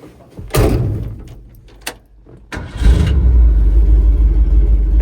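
A truck door thuds and latches, then the engine cranks and settles into a loud, steady low rumble that runs to the end.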